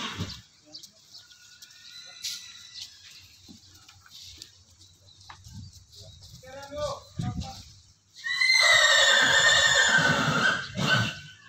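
A racing stallion newly arrived at a stable in West Sumatra lets out a long, loud, close whinny after several seconds of people talking, with faint animal noises in the background.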